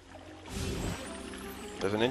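Water in the Prince of Persia: The Sands of Time game splashes and trickles briefly in two soft bursts, faint and close, with a voice speaking over it.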